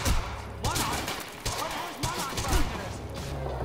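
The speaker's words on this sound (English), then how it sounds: "You heard the gunfire." Gunfire in the video game Quantum Break: bursts of shots crackle in rapid volleys across the scene, loud and close, interleaved with shouted voices.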